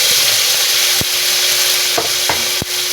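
Browned garlic frying with onion and tomato in a pan, loud close sizzle punctuated by a few sharp spatula knocks against the pan, no voices.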